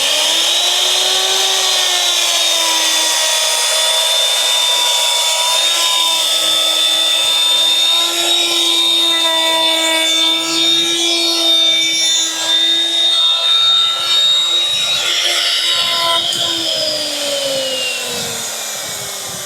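An electric planer shaves the bevelled edge of a solid core door in one long, loud, continuous whining pass. Its pitch sags slightly at the end as the cut finishes.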